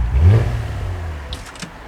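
A Cadillac CT4-V Blackwing engine and exhaust revs, a deep rumbling surge that peaks early and then eases into a steady lower drone, with a few light clicks near the end.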